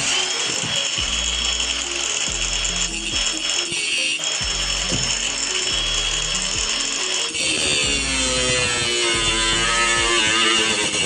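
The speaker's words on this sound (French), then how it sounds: "c'est des tiges filetées d'1 mètre que je recoupe en petits tronçons de 20 cm" Metal threaded rods one metre long being cut into 20 cm pieces during a stone house renovation, a steady loud grinding whine running throughout with repeated lower rhythmic bursts as the cut progresses.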